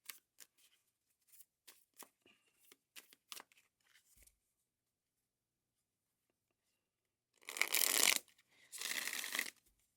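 Tarot cards being handled, first as a string of light taps and slides, then as two bursts of riffle shuffling, close and crisp with nothing else around them.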